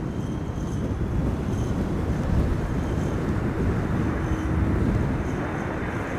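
A KLM Boeing 737-900 airliner arrives at Amsterdam Schiphol Airport in high storm winds, a steady, distant broadband jet rumble blended with constant wind noise, even in loudness throughout, with no talk.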